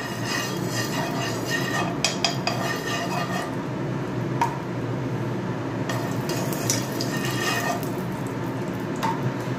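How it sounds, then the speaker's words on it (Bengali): A small spoon spreads ghee over a hot iron tawa on low heat while patishapta is being made, giving light scraping, a soft sizzle and several sharp metallic clinks. "ছোট্ট একটা চামচে করে লাগিয়ে নিচ্ছি গাওয়া ঘিটা"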